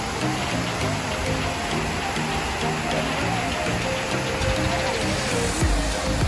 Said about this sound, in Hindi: यहाँ पे छोटे छोटे वॉटरफॉल है।